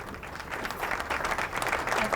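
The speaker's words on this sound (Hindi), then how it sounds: "तालियां बजा दें यार" Studio audience claps on a cooking show set as a chef arrives, a dense, close burst of applause that grows louder and holds steady, with some voices mixed in.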